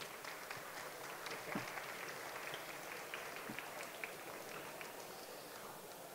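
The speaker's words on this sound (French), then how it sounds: "On peut les applaudir." Faint, distant applause from an audience at a digital retail conference, thanking a group of five speakers after their testimonies; soft, steady clapping heard alone, with a couple of slightly louder claps.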